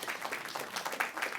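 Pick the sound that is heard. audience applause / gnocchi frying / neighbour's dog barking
audience applause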